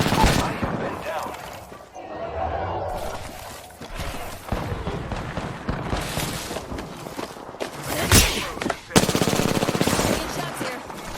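Automatic gunfire in the Apex Legends video game, with rapid machine-gun bursts and scattered shots. The bursts repeat across the stretch and grow louder and denser toward the end, and a voice speaks faintly between the volleys.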